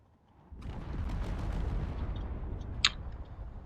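Torpedoes destroy a corvette in the Drone Wars video game, a low, rumbling blast that swells suddenly and rolls on at moderate distance, topped by a brief sharp pop near the end.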